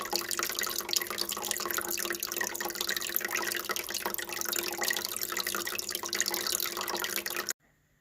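Water gushes steadily out of a small hole during a water change on a 10-litre Fluval Spec aquarium, a close, continuous splashing hiss that stops abruptly near the end.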